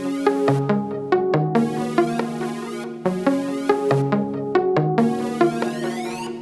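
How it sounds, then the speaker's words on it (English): A heavily phased synth preset from FL Studio's leads section plays a bouncy repeating melodic pattern in a hyperpop style, with plucky notes and sustained tones cycling in two similar phrases, loud and alone. "It's like heavily phased out, and then I played this pattern with it."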